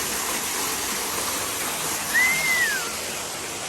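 Water flowing in a forest stream in a national forest, a steady close rushing and splashing that fills the whole stretch, with a brief high whistle-like chirp partway through.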